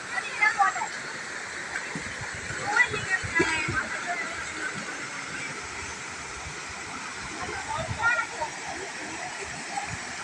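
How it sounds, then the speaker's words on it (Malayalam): Rushing water from a waterfall at Vettukad roars steadily in the background while people talk and shout nearby. "വളരെ മനോഹരമായിട്ടുള്ള ഒരു വെള്ളച്ചാട്ടമാണ്"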